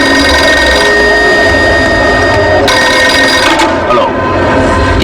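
A public telephone rings on platform 1 of the Hyderabad railway station, a loud, continuous electric bell tone that sits under a dense drone of station and film-score noise.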